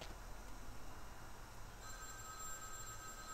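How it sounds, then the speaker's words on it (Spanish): Faint telephone ringing in Vampire: The Masquerade – Bloodlines, a thin electronic trill starting partway through over a low, steady rumbling background. "Ese teléfono está sonando."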